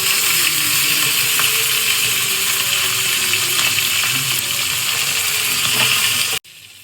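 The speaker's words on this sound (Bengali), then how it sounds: "আমার তেল গরম হয়ে গেছে, দিয়ে দিচ্ছে মাছ।" Fish frying in hot oil gives a loud, steady broadband sizzle with scattered pops and crackles, continuous for about six seconds before cutting off abruptly.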